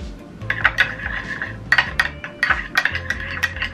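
Greek yogurt and red wine stirred together in a bowl, a spoon clinking against the sides in quick, repeated taps and scrapes, fairly close and distinct with no talking.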